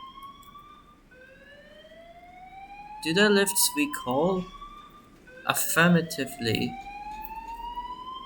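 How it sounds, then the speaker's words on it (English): A fire alarm in a Roblox building game sounds a steady rising electronic tone that repeats all through, while a voice talks over it in two short bursts. "It turns out that the fire alarms do work."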